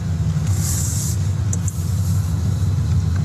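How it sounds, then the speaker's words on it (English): An Audi electric vehicle accelerating smoothly, heard as a steady, close low rumble with a faint higher whine early on and no voices. "Smooth acceleration from the EV motor."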